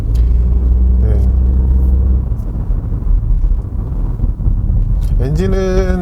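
A 1.0-litre gasoline engine in a 2022 Hyundai Casper van strains loudly on a winding road, a steady low rumble under cabin and wind noise that climbs into a rising rev toward the end.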